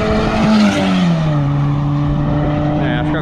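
An Audi Q3 4x4 engine revs during a test run, a sustained drone that sinks in pitch, with tire noise and voices mixed in.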